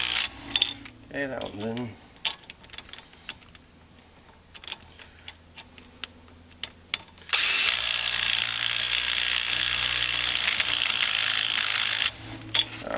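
Ratchet wrench pulling wheel studs snug on a 2004 Polaris Sportsman 500 ATV, rapid clicking bursts up close, then a long steady ratcheting run near the end, with brief speech early on.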